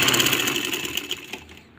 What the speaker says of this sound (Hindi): अब हम यहाँ से सिलाई को लगाकर चेक करते हैं कि हमारी जो सिलाई है वो कैसी आएगी।